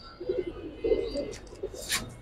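A male clear-eyed racer pigeon gives a few soft, close coos in quick succession, with a brief chirp near the end.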